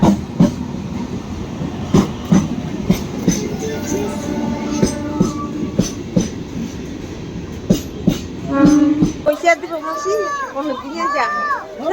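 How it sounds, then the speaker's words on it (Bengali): A train rumbles and clatters into a station with rhythmic clacking and brief squeals, ending in a quieter stretch with people talking nearby. "টাটা টাটা ট্রেন চলে এসছে"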